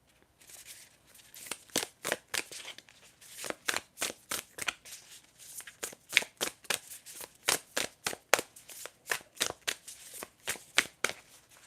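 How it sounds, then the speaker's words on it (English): Tarot cards shuffled by hand in a steady series of crisp riffling bursts, close and fairly quiet, repeating rhythmically with short pauses between. "I'm going to start shuffling now for your reading"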